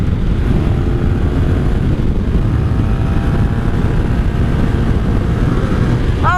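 A 1983 Honda Sabre VF750S motorcycle roars steadily while accelerating in 4th gear, heavy engine drone mixed with strong wind rush, close and loud throughout.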